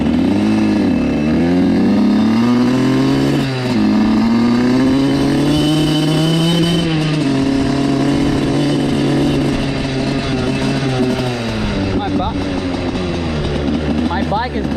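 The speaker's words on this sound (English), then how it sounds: "My bike is definitely acting up right now." A dirt bike that is acting up runs and revs up close and loud, its engine pitch rising and falling steadily throughout, with a person talking over the engine noise.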